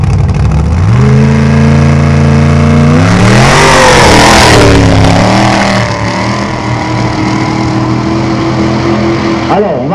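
Topolino-based dragster engine revving hard at a security runs event in Satigny, loud and close, climbing sharply in pitch to a roaring peak around the middle, then settling into a steady high-revving drone.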